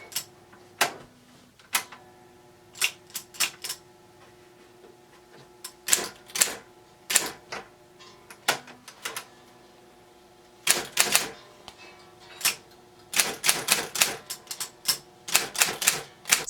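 Electric Olympia MR-12 typewriter typing out a test, with rapid irregular clacks in bursts and clusters, some sharp louder strikes, and a faint steady motor hum beneath, close and without talk.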